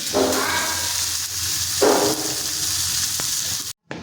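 Peanuts and tomatoes fry in a pan with a steady, close sizzle, rising in two brief louder swells as the food is stirred, ending with a short silence.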